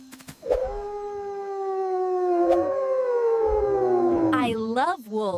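A gray wolf gives one long, loud, sustained howl that slowly falls in pitch, with a few clicks and short noises around it.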